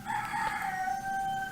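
A rooster crows in a village, a loud, drawn-out call lasting over a second with a slight dip partway through. No other sounds stand out.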